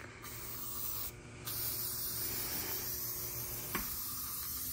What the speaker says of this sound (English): We're gonna spray and then throw it.